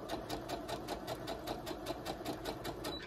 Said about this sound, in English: It's just a straight stitch.